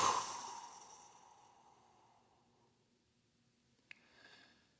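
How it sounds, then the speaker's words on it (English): A single deep exhale during a gentle yoga session, close and breathy, fading slowly over several seconds into near silence, followed by a faint tap and a softer second breath. "eventually a couple of deep exhales"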